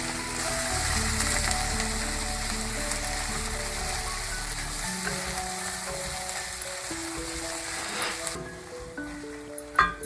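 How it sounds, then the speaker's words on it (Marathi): Ground onion and tomato paste sautéing in hot oil in a pan, a steady close sizzle with occasional stirring scrapes that thins out toward the end. "मिक्सरमधून वाटून घेतलेले कांदा टोमॅटोचे वाटण यामध्ये घालून तेल सुटेपर्यंत छान परतून घ्यायचं आहे."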